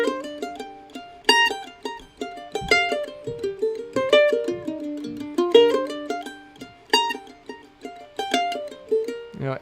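Mandolin picked in a steady melodic line with the first downstroke of each measure accented, bright plucked notes in a clear recurring rhythm, close and solo.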